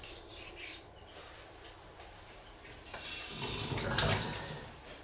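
Water runs and splashes over a Japanese sharpening stone about 210 mm long while a straight razor is being touched up, a soft trickle at first that swells into a louder, close rush of running water midway, with faint rubbing.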